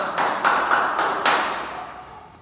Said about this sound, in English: Please give Marvin a round of applause again.